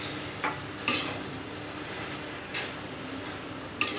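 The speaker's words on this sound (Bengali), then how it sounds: "শাকটা নরম হয়ে গিয়েছে, এখন ডালটা মিশিয়ে দেব।" Dal being stirred into cooked, softened greens in a pot, with a few light scrapes and clinks of a spoon against the pot over a soft sizzling background, close and alone.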